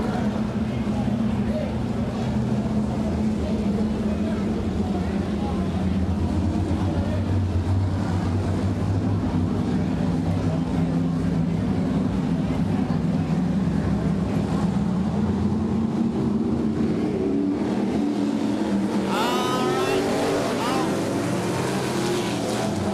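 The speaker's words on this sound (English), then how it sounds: "Super modified heat race underway." Super modified race cars in a heat race at a track, a continuous loud engine roar that swells and drones as the cars circle, with a sharper higher whine near the end.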